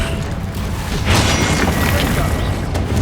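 A Bombarda or Confringo spell explosion in Hogwarts Legacy bursts out as a loud, rumbling boom that swells and lingers for about two seconds over a dense, noisy game background, with voices nearby.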